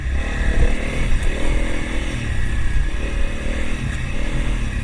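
A Honda CRF300L dual-sport motorcycle putts along a trail, its single-cylinder engine a loud, close, steady rumble with slight throttle swells and some clatter from the bike.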